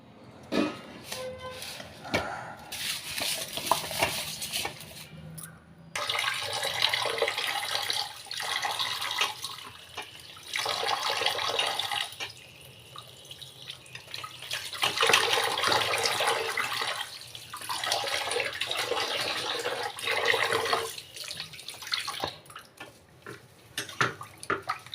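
Raw fish is washed by hand in a basin of water before making a Nellore fish curry, with close splashing and sloshing in repeated bursts broken by short pauses.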